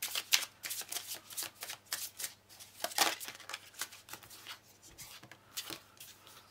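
A tarot deck is shuffled continuously at close range, giving rapid, soft riffling and flicking card sounds that are fairly quiet, with no voice over them.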